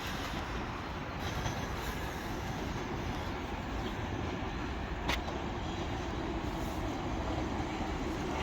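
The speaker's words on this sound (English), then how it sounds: "we've got a South Western Railway service coming in from Dorking to" A South Western Railway train from Dorking bound for Waterloo rolls into a station with a loud, continuous rumble of wheels on track and a brief squeal partway through, heard alone without talk.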